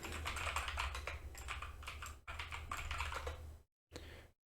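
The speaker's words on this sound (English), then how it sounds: "I'm gonna type the new root password" Rapid clicking on a computer keyboard while a password is entered, dense close keystrokes running for several seconds, a brief pause, then a final short burst.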